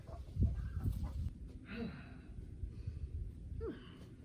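Chickens clucking and squawking nearby at a chicken coop amid rustling and scuffling, with a few sharp agitated calls.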